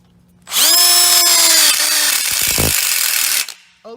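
A power drill drives a screw into a cheap, flimsy steel stud, with one loud whining burst that rises fast, holds steady, drops slightly as it bites and then stops abruptly.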